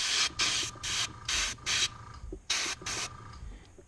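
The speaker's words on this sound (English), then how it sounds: "Just airbrushing it," Short bursts of an airbrush spraying paint onto a Gundam model kit, about seven hissing blasts of varying length separated by brief pauses, close and fairly loud.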